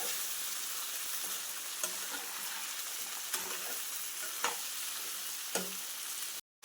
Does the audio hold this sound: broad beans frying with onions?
yes